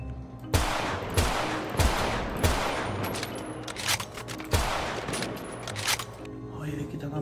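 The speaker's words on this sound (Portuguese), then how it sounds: "Eu vou dar um tiro pra cima." Gunshots fired into the air in the GTA RP video game, a burst of about eight or nine sharp loud cracks spaced irregularly with short echoing tails, with a voice talking in between.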